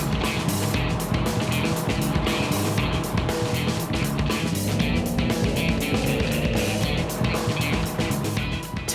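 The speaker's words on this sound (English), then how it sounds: "This is the Jet Boat Tour" A jet boat's engine roars steadily as it cruises the Broadwater on the Gold Coast at over 70 km/h, a loud continuous motor drone with rushing water noise throughout.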